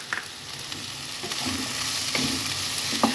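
Green chilies sizzle as they are stirred into mixed vegetables frying in oil, a steady close hiss with light scraping stirs and a few clinks of the spoon on the pan.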